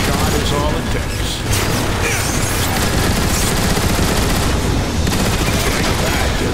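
Dense gunfire from a futuristic shooter, Transformers: War for Cybertron, with rapid bursts and booms packed together and dialogue voiced over the constant battle noise.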